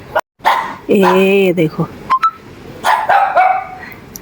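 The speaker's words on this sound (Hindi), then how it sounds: "ऊपर से भौंक रहा है" A dog barks from an upper floor of a house at night, giving several sharp barks and yelping whines, fairly close, while someone speaks briefly over it.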